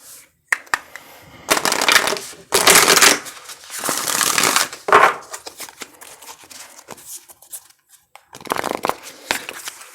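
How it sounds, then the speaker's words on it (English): Playing cards are shuffled up close in several rapid riffling bursts, with soft taps and handling noises between them. "Let's go ahead and get this deck shuffled"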